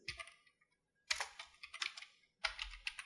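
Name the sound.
typing on a computer keyboard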